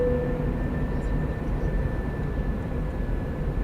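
An Airbus A320 takes off in Microsoft Flight Simulator, a steady loud jet engine roar with a constant whine and no talk.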